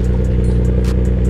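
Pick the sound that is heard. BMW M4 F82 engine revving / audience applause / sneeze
BMW M4 F82 engine revving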